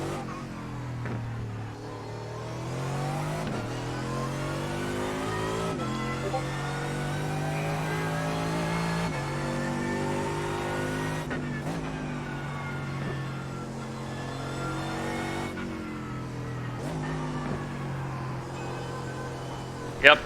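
Mercedes race car engine lapping the Nürburgring 24 hours in a racing simulator, a continuous engine note climbing and falling with repeated gear shifts and revs, with someone talking over it.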